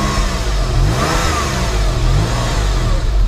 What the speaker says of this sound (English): let's give the car a rev before we look at the boot.